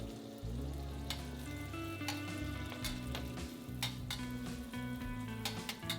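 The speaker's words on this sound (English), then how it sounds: "just push the eggs over and stir fry the chilies now" Chilies being stir-fried in a wok beside pushed-aside eggs for lo mein, a soft continuous sizzle under background music, with occasional faint scraping of the spatula.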